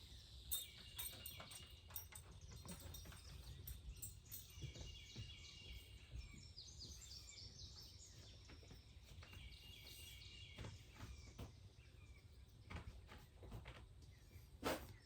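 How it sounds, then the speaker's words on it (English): Birds chirping and calling in a quiet outdoor yard, scattered light tweets over a low steady background hum, with no talking. "it's just me and the birds, and they kind of act as my sound studio"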